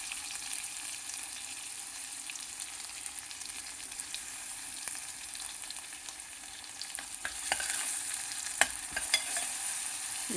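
Onions and ginger garlic paste frying in oil for a broccoli vegetable curry, producing a constant, fairly quiet hiss of sizzling with sporadic stirring scrapes that grow a little busier toward the end.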